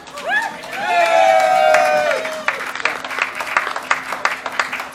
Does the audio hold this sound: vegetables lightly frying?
no